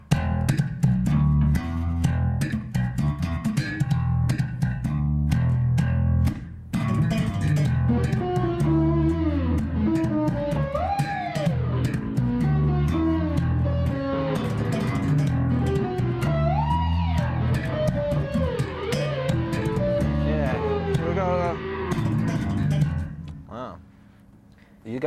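Two bass guitars lock into a funky groove together, hammered-on and plucked notes bouncing in a busy, rhythmic pattern that plays continuously and loud before fading out near the end.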